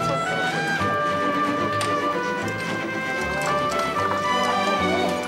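Horses' hooves clip-clopping on a 1997 film set, steady rhythmic clopping close by, mixed with music and a little talk.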